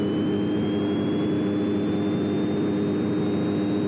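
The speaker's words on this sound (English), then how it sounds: "now what I'm going to do is do that engine run-up. So I'm going to push this up to 1800 RPM" A light airplane's engine is pushed up to 1800 RPM during a run-up, a loud, constant close-up drone with a faint whine rising slightly in pitch.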